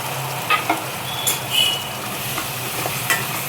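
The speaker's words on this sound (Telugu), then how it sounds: "మొత్తం కలుపుకోవాలి. టమాటా పేస్ట్ వేసుకోవాలి." Tomato paste is stirred into a paneer curry frying in a pan. A steady sizzle runs throughout, with intermittent spoon scrapes and light clinks up close.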